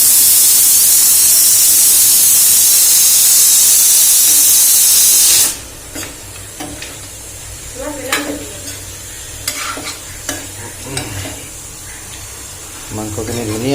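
Boiled pork fried and stirred in a pan for an Assamese pork recipe: a loud, steady sizzle for about five seconds, then a quieter simmering hiss broken by scattered clinks and scrapes of a utensil mixing the meat.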